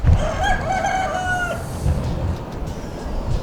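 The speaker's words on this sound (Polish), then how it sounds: "Hiszpanie hodują kury na stacji." A rooster crows loudly nearby at a service station in Spain, a long drawn-out call, followed by scattered clucking of hens against a low rumbling background.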